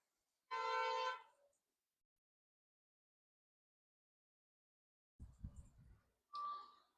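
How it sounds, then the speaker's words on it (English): One short, bright car horn blast on a street, fairly clear against quiet surroundings. A few seconds of silence follow, then a low rumble and a second, shorter tonal honk. "someone just got honked at"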